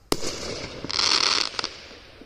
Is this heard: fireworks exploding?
yes